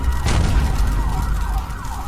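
A wailing ambulance siren in a video game, with a sweeping, rising and falling tone, loud and continuous, set against a low rumble of game background noise.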